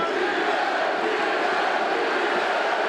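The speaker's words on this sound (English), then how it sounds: "The chants of Diaz emerged through the crowd." A large UFC arena crowd roars in a dense, steady wash of voices, with a chant for fighter Nate Diaz rising through the noise.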